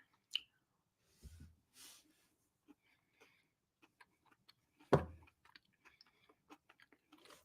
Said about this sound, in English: I know you hate mouth sounds